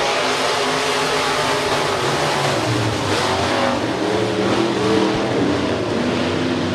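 Northern Sportmod race cars roar around the US 30 Speedway oval in a heat race, a steady loud wall of engine noise with revving engines and passing cars throughout, no talk.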